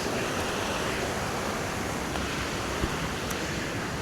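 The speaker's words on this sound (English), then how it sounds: "That waterfall or cascade or whatever it is seriously pretty astounding." A waterfall or cascade near the site of the 1933 Glen Massey train wreck gives a steady, dense roar of rushing water, constant and fairly loud throughout with no voices.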